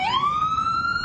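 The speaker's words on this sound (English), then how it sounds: "Sirens blaring all day, one after the next, taking dozens and dozens of overdose victims to the hospital." Emergency vehicle siren wailing nearby, a single tone rising then holding steady and loud over low street rumble, during a mass overdose response at the New Haven Green park in Connecticut.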